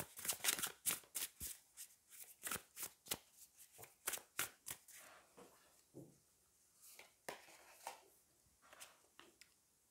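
Tarot cards riffled and shuffled by hand, a rapid run of crisp, close flicks at first, then slower scattered slaps and soft slides as cards are laid down, quiet and with no talking.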